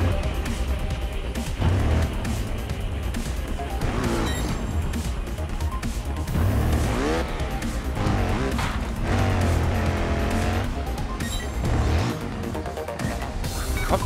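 Motorbike in the video game Trials Fusion, its engine revving up and down in wavering, rising and falling sweeps with tyre noise and thuds, loud and continuous for the whole stretch without speech.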